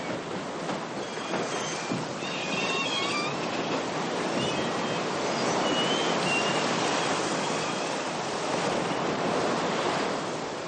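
Heavy seas rush and wash around a square-rigged brig under sail, a continuous loud roar of water and wind with surging swells.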